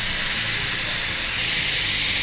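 Pressure cooker whistle letting off steam while cooking hesitu kalu (green gram), a loud continuous close hiss throughout.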